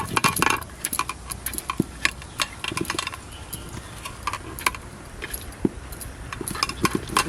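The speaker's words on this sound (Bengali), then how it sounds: "এবার একটু ঢাকা দিয়ে মিশিয়ে নিই।" Chicken biryani being mixed in a covered metal pot, with repeated close scraping and clinking of a spoon against the pot in an irregular rhythm, no talk.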